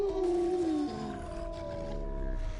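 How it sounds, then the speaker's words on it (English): A creature's drawn-out, tonal howl during a boss fight in Diablo 4, loud and close, sliding downward and then settling into a sustained wavering drone over game background noise. "That's a weird howl you just did right there"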